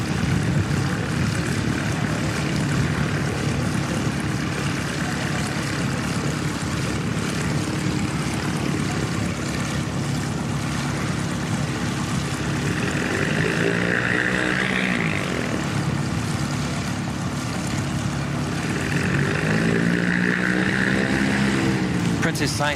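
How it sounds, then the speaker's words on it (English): Propeller training aircraft at Christchurch Airport start up and head out, a continuous loud engine drone with some tonal shifts from engines revving, heard alongside talking in places. "The first wave of the training aircraft are heading out."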